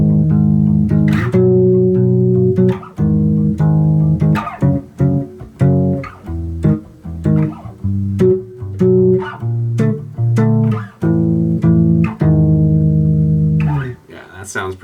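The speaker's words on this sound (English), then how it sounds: "So we could kind of plane that voicing and move around, get some kind of fusion sounds like this." A bass guitar slides a major 7 chord voicing around the neck in a fusion style, a series of struck chords and short plucked notes shifting pitch in a loose, syncopated rhythm, close and clear.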